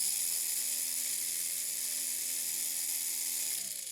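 A WLtoys L939 micro RC car's stock motor runs at steady speed on a 20-volt supply, giving a close, high-pitched electric whine that holds constant and starts winding down at the very end.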